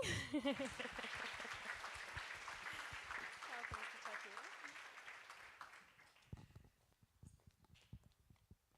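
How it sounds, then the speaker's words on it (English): Scattered applause from an audience at a Youth Day event starts lively under a voice, then thins to a few isolated claps as it dies away. "So thank you very much for the applause."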